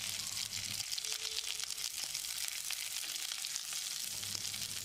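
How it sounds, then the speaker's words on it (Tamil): Curry leaves and pinched dried red chillies fry in hot oil for a horse gram kulambu, a continuous bright crackling sizzle, close and steady, with faint stirring underneath. "கொஞ்சமாக கருவேப்பிலை, 2 வரமிளகாயை கிள்ளி போட்டு பிரட்டி விட்டுடலாம்"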